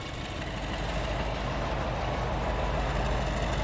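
Class 33 diesel locomotive accelerating in Transport Fever 2, a loud, heavy low engine roar building steadily and holding strong without a break.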